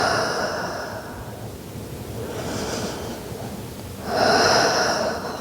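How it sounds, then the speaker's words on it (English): Slow deep breaths during a Pilates flow, a long airy exhale, a softer breath in the middle, then another strong breath near the end, close and alone. "Nice big inhale through your nose. Exhale out through your mouth."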